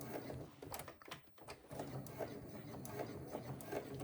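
A sewing machine stitches slowly over a bulky seam on a crossbody bag, giving faint close mechanical whirring with a soft repeating needle rhythm that briefly pauses and then resumes.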